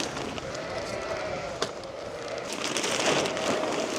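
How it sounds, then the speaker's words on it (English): Sheep bleating on a farm in rainy November weather, a steady, fairly close murmur of bleats over constant outdoor noise, with no talk heard. "You can hear the sheep, man, they can smell it."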